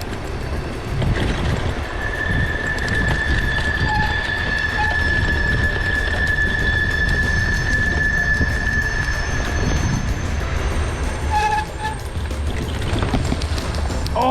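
A train passes nearby, a continuous rumble of rolling wagons with a long high metallic wheel squeal and some clanking near the end, steady and fairly loud.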